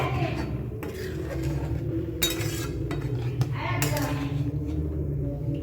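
Dudh puli pithas simmer in milk with cracked cardamom as a utensil stirs the pot, producing scattered metallic clinks and scrapes over a low bubbling bed.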